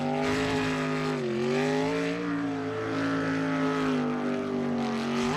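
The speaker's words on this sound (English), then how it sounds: "Jet sprint boats, baby." Jet sprint boats racing on a shallow water course, their engines giving a loud, continuous high-revving roar with pitch that dips and climbs as they turn hard, steady and close throughout without talk.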